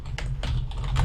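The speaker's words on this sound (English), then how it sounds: "I just had to finish typing up a comment real quick." Rapid typing on a computer keyboard while writing a comment, a steady run of close, clicky keystrokes over a low background hum.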